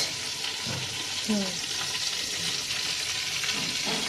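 Whole spices — two bay leaves, two cloves, cardamom pods and cinnamon — sizzling and crackling in hot oil in a pan, a steady close fry with scattered pops and faint stirring throughout.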